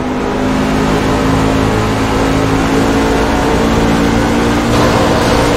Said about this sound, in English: It's the Toyotas that are doing it. The Toyota truck's making that noise.